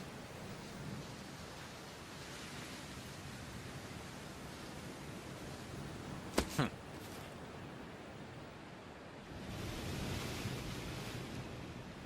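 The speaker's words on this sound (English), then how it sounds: "The ocean." Ocean surf in an animated series, a steady broadband wash of waves rolling on throughout, swelling louder near the end, with a couple of brief sharp tones cutting in briefly midway.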